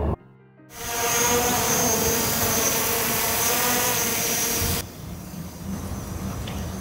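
A swarm of show drones landing gives a loud, steady whirring hiss that starts abruptly, holds for several seconds, then drops to a softer drone near the end.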